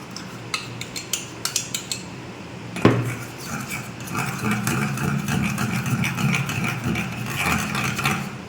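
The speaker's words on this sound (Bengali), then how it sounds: "এভাবে ফেটিয়ে নেবেন ভালো করে।" A marinade of mustard paste, sour yogurt and green chili paste for fish is beaten in a bowl: a quick run of light utensil clinks, then a steady close scraping churn that continues to the end.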